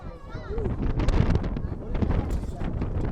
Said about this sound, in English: The wind is picking up for sure.